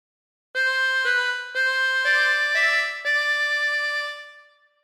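A harmonica plays a short melodic phrase of Yellow Rose of Texas, five or six sustained reedy notes in an even rhythm, close and clear with no voice, the last note fading out.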